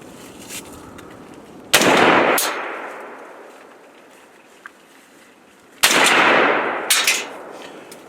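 Two sharp gunshots crack out several seconds apart on a simulated helicopter shooting platform, each a loud burst with a long fading echo, the second followed by a quieter third report.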